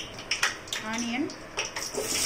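Onions frying in ghee and oil for mutton biryani, a soft sizzle under scattered clinks of a spoon against the pan, with a person talking over it.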